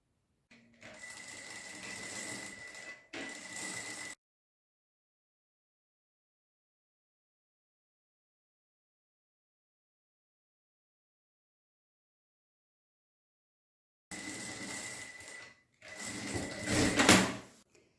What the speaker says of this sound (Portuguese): Agora, eu vou lá na máquina e vou costurar esses 4 cantinhos da bolsa.